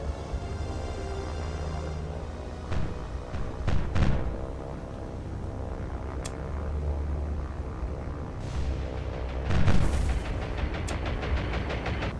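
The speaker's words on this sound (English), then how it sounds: "Got him another explosion." Artillery fire and ship explosions in the naval video game War on the Sea, a rumbling battle bed with several dull booms and a louder blast near the end, no talking.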